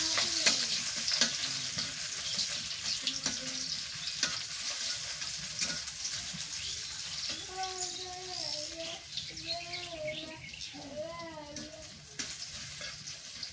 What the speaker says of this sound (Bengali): পেঁয়াজটা একটু লাল লাল করে ভাজে নিই